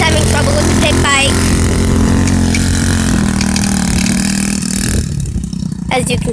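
A pit bike's engine revs and idles with a steady, loud mid-pitched drone that holds for several seconds before dipping near the end, with voices talking over it.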